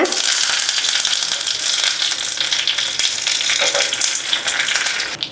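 Curry leaves dropped into hot oil already popping with mustard seeds, urad dal and dried red chillies for a ginger chutney tempering, giving a loud, dense, crackling sizzle right up close that fades near the end.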